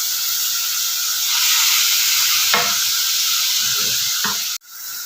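Chicken mince fries with garlic, onion and ginger, giving a loud, continuous hiss and sizzle. A couple of stirring scrapes break through before the sound cuts off sharply near the end, then resumes. No one speaks.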